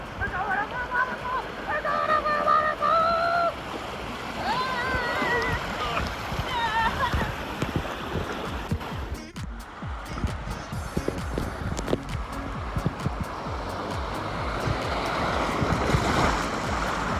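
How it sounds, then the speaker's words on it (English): River rapids heard while tubing in the Smokies: a continuous broad rush and splash of churning water, loud and close, with voices briefly audible over it near the start. "Decent rapids here."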